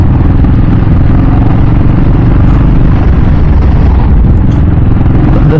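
A CCM Maverick Spirit 600cc motorcycle engine runs loud and close, giving a heavy, steady rumble with rough clatter all the way through. No speech can be heard.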